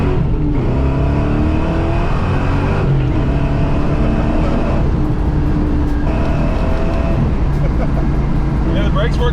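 A Vortech-supercharged Foxbody Mustang GT drives along, its engine droning steadily up close with rising and falling harmonic tones as it accelerates through gears, with talk over it.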